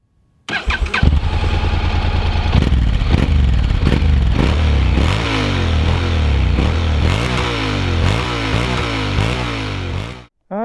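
A 2019 Honda X-ADV scooter starting up and riding off: an engine catches and fires, then revs rise and fall in repeated surges with wind rush, loud and close, ending abruptly, no talk.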